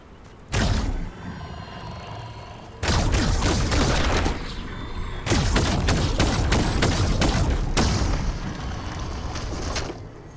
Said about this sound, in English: What happens if I shoot this guy?